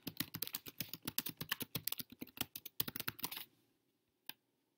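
A student types an answer on a computer keyboard during a test, giving a rapid run of close, crisp key clicks for about three and a half seconds, then a pause and one final isolated keystroke.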